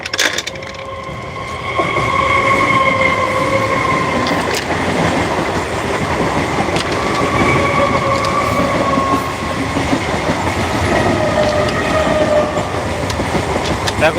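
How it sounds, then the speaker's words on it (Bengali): A train rolls past nearby, a loud steady rumble with clickety-clack wheel rhythm and faint squealing that builds after a quieter start and holds throughout. "ট্রেন যাচ্ছে আমাদের সামনে"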